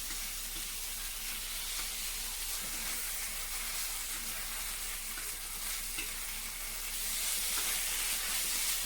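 Chicken frying on a tawa until crispy, a constant close, bright sizzle and hiss of hot oil with occasional stirring, growing slightly louder toward the end.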